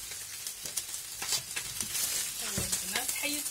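Salmon fillet frying on a flat griddle plate and releasing its oil, giving a steady close crackling sizzle with brief scraping stirs and a few spoken words underneath.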